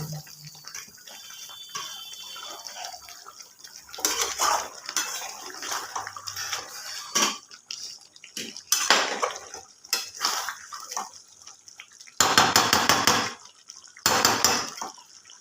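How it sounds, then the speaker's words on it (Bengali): Chicken stirred in a pan over a raised gas flame, with irregular bursts of metallic scraping and clattering of utensil against pan between quieter sizzling stretches, close and loud at times. "এবার আর একটু গ্যাসটা বাড়িয়ে আরও একটুখানি আমি নাড়াচাড়া করে নেব"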